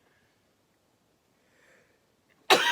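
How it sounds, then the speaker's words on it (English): A single sharp sneeze bursts out loudly at the very end, after near silence with a faint breathy intake just before it. "I'm going to sneeze."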